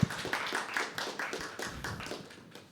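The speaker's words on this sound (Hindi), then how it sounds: "तो एक बार जोरदार तालियां हो जाए इनके लिए।" A small audience at a live poetry open mic claps for the host, a sparse, uneven patter of hands in the room that gradually thins out and fades.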